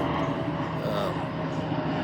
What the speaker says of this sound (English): There's another plane bringing some more tourists here to spend their money in Orlando.